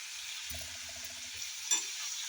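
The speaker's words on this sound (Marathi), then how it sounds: "ते सुद्धा छान असं परतून घ्यायचं आणि यामध्ये भिजवलेले भाकरीचे तुकडे घालायचे." Soaked pieces of jowar bhakri being sautéed in a spiced tempering in a pan, giving a steady close sizzle with a brief burst of stirring, alone without talk.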